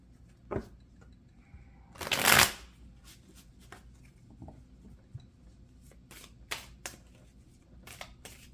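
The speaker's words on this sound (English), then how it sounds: "let's get into the deck. We'll just pull a few cards." A tarot deck is shuffled in a quiet room, one long riffle burst in the middle with several brief card snaps and taps before and after, no voices.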